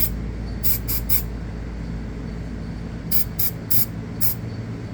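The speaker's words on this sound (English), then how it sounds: "I'll take a silicone spray or some sort of a lubricant, whatever you guys have available to you, and I will spray" Bursts of silicone lubricant spray, two quick pairs of short hisses, close and clear over a steady low hum, coating the inside walls and threads of a Lancair 360 Risse Racing landing gear shock during a rebuild.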